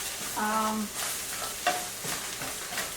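Pork chop and corn cooking in a pan, giving a continuous close hiss of frying with a few stirring scrapes and brief tonal clinks.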